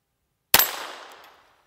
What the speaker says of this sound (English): It almost surprises me when it goes off.